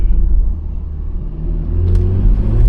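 A stage 2 BMW 340i engine hums and rumbles low and steady from inside the car on a backroad, with the drone swelling slightly toward the end and no voices over it.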